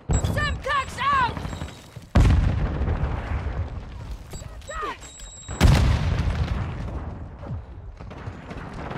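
Two loud, heavy Semtex grenade blasts from Call of Duty: Modern Warfare II, each a sharp boom with a long rumbling tail, separated by a few seconds amid ongoing game sounds and brief voice callouts.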